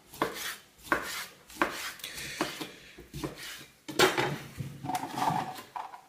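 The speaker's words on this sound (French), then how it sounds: "on va commencer déjà par couper les poissons" A knife chops fish into small pieces on a board for Korean fish cakes, giving a steady run of close, crisp knocks about every second with faint clatter between them and no talk.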